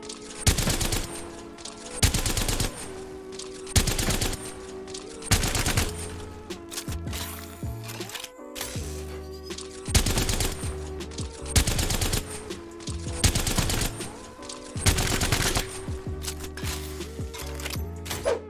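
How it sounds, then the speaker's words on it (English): Havoc rifle in the Apex Legends video game firing in short, regular bursts, roughly one every one and a half to two seconds, loud and close, with a short pause midway and no talking. "Let me just show you a couple of practices just burst firing and getting used to that timing."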